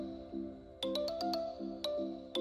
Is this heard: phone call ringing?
yes